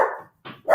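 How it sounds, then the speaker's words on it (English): A pet dog at home barking as a car pulls up, two loud close barks separated by a short pause. "Probably about to bark because I think my kids just pulled up"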